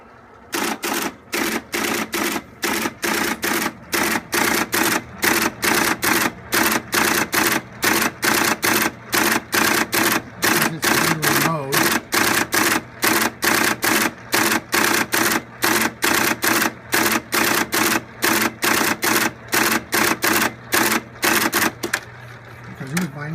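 A keypunch machine punches binary-mode cards from a PC file, giving a fast, loud, evenly spaced train of mechanical clacks over a constant motor hum for the whole stretch.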